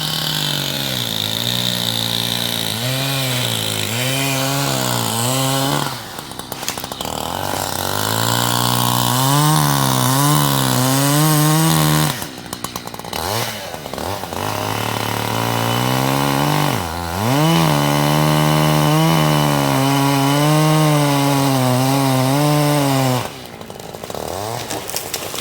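Chainsaw bucking a leaning chestnut oak into firewood in a woodlot, loud and close, its engine revving up and down through repeated cuts with brief idle dips between them.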